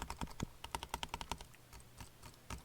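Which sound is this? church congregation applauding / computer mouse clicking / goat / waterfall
computer mouse clicking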